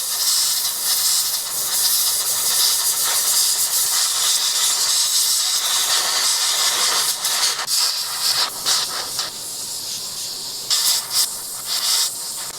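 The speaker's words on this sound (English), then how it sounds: "you kind of got to angle the airbrush and be wary of where you're spraying." An airbrush sprays white paint onto a Squid Game mask, a loud, close, continuous airy hiss that runs steadily, then breaks into shorter bursts and pauses toward the end.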